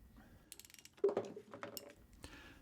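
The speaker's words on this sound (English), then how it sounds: "Turn the top wrench counterclockwise while holding the lower wrench until it's tight" A wrench works a self-tightening stud puller to loosen a cylinder head stud on an Atomic 4 engine, giving faint close ratcheting clicks and small metallic scrapes and knocks in an irregular patter.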